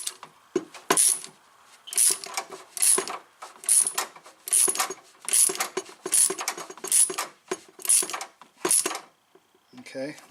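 A wrench with a 15 millimeter socket ratchets a rusty brake line fitting tight, giving about nine close, sharp metallic clicks in a steady rhythm roughly once per second.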